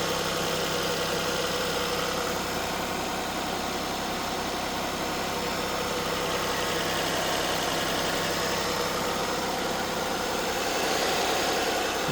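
A Hyundai Santa Fe, freshly repaired after water pump and timing belt work, idles steadily up close with a constant even hum and faint mechanical clatter and no other sounds throughout.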